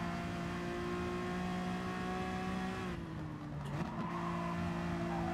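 Honda NSX engine in GT Sport holding a steady, loud harmonic drone that dips briefly mid-run, as if shifting or lifting off, then settles back to a sustained high-revving tone, with no talk over it.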